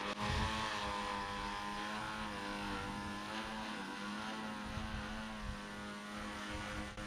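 A small VTOL model aircraft on a test flight gives a steady, faint electric motor and propeller drone with a constant tonal hum, holding an even level throughout.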